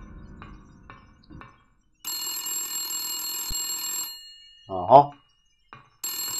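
A telephone in the video game Silent Hill rings with a steady electronic trill for about two seconds, then starts again near the end. A man's short exclamation comes between the rings.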